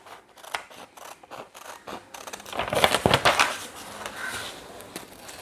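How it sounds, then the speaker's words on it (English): Scissors snip through paper while cutting out a bird outline, with a quick run of rhythmic close-up snips followed by louder rustling and crinkling as the paper is handled and cut. "Now we are going to cut the bird outline."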